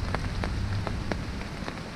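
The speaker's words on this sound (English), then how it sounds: "suddenly the sky clouded over and it started to rain" Rain falls during a day of pike fishing at a pit. It makes a dense, steady patter, with distinct close drops hitting a nearby surface every fraction of a second.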